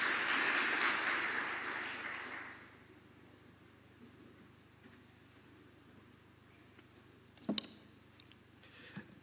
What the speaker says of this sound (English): We can welcome him with a clap as well.